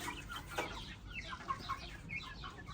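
Several Shamo and Brahma chickens cluck in short, scattered calls over a steady low outdoor rumble, fairly close, with no talking.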